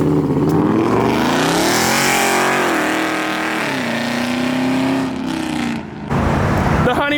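A Dodge Scat Pack revs hard and pulls away from a car show, a loud, close engine climbing and falling through several surges before a brief lift and another roaring burst.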